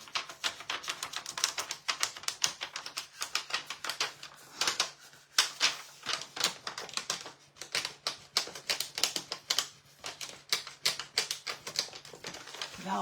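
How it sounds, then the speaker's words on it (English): Paper crinkling and crackling while being pressed down in a decoupage craft with Mod Podge: dense, rapid, irregular crisp snaps and rustles, close up and fairly loud, continuing throughout. "I'm making all kinds of noises with my paper."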